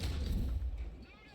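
A Maus heavy tank in War Thunder fires its 75 mm gun, a single deep booming thump that decays into a rumbling tail, heard fairly quietly.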